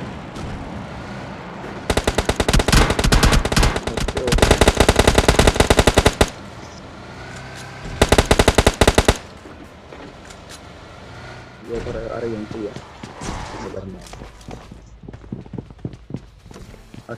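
Rapid automatic gunfire from the PUBG Lite video game rattles in two loud, sustained bursts, a long one followed by a shorter one, with quieter scattered shots and some talk afterward.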